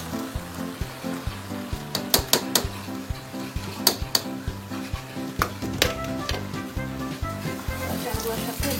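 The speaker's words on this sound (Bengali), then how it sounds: "এখন তার মধ্যে আমরা চালগুলা, আমাদের যে আগে থেকে ধুয়ে রাখা চালগুলো আছে সেই চালগুলা অ্যাড করে দিচ্ছি।" Pre-washed rice being tipped into a sizzling pot of hilsa fish for ilish polau and stirred, with steady frying sizzle, rhythmic spoon scrapes and sharp clinks against the pan.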